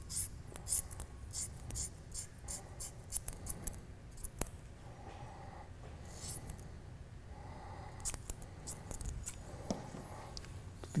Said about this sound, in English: I'll trim off this to get that fray down.